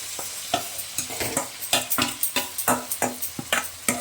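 Marinated mutton is poured into a pan of browned fried onions for a curry, giving a close, loud sizzle broken by quick rhythmic scraping and stirring strokes.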